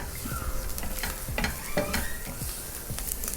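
Finely chopped ginger sautés in a pan, a crackling sizzle broken by repeated spatula scrapes and stirs at an uneven rhythm, close and clear with no speech.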